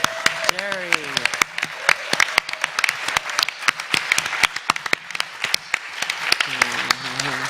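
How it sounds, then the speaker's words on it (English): Crowd applause with many sharp claps spread across the whole stretch, loud and close, mixed with some voices and cheering underneath. "I wanted to give a round of applause to this man over here"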